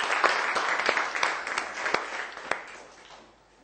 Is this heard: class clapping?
yes